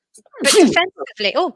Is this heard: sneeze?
yes